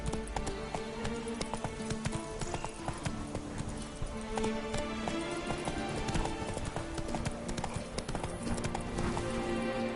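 Roach the horse galloping in The Witcher 3: Blood and Wine, a steady rapid clatter of hooves throughout, moderately loud under game music with low talk nearby.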